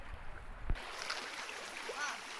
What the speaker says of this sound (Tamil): தண்ணி போகுது.